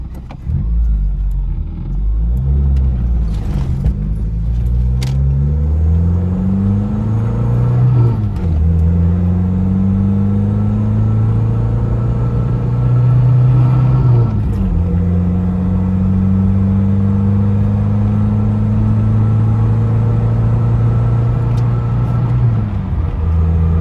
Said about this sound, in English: You're revving it pretty good on the highway, but it'll do it.